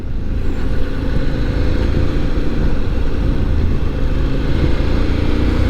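A CF Moto 800 MT motorcycle being ridden in fourth gear, its engine a steady, loud, low rumble mixed with wind roar, close and continuous throughout.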